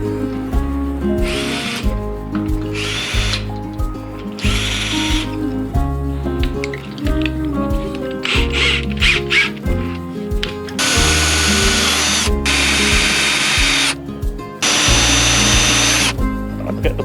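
An electric drill whines in repeated bursts, starting and stopping several times, loud and close, with a grinding edge as it bites into brick.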